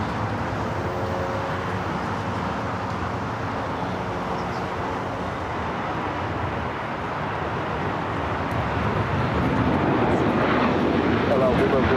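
Airliner bound for Tel Aviv rolling down runway 25 right at LAX, its engines a continuous rumbling roar that builds toward the end, with radio chatter faintly underneath.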